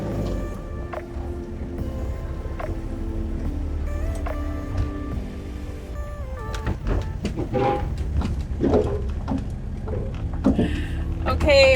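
Vehicles starting up and rolling off a Channel Tunnel shuttle train carriage, a steady engine and rail-car rumble with clanks and knocks throughout, close and continuous, with a person speaking at times over it.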